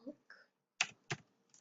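Two crisp bursts of typing on a computer keyboard, close and distinct, with brief faint sounds between them and no talking over the keystrokes.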